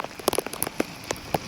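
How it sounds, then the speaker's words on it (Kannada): Heavy rain at Talakaveri, a soft patter of scattered drops striking a nearby surface in irregular taps over a faint steady hiss. "ಇವಾಗ ಹೆವಿ ಮಳೆ"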